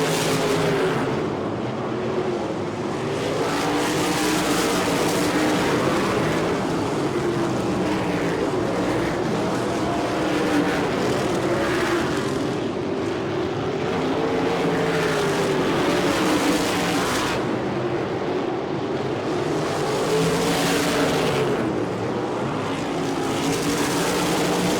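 Sprint cars racing around a dirt oval in a USAC event, engines droning loud and continuous with rising and falling passes as cars sweep by, no voices over the roar.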